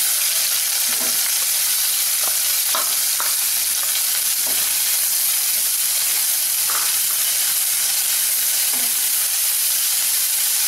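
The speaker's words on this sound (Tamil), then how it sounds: "வெங்காயம் நல்ல ப்ரௌன் கலரில் வரட்டும்." Sliced onions fry in a hot pan for Chettinad pepper chicken curry, a loud continuous sizzle broken by intermittent spoon scrapes and stirring knocks, close up with no voices.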